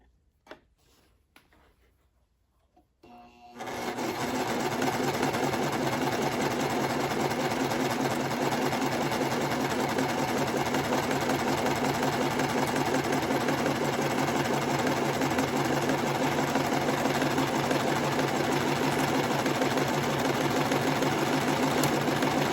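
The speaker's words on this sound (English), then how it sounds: "And I'm going to start serging." A serger overlock sewing machine set to neutral stitching fabric: after about three seconds of near silence it starts up into a loud, steady, rapid mechanical whirring hum that runs unbroken to the end.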